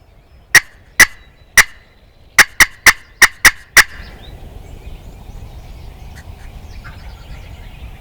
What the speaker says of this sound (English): when they quit gobbling like this